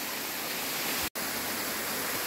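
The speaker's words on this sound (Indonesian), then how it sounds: "Sekarang kita bisa ngisi air minum di pancuran bambu ini ya" Water pours steadily from a bamboo spout on a forest trail on Mt Lorokan, a loud, even rushing hiss that fills the whole stretch, broken only by a split-second dropout.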